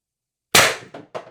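A Titan IB-2 carbine fires a single sharp shot of 6-gram shaped ammo at 800 PSI, a loud close crack followed by two quick metallic clacks as the action cycles.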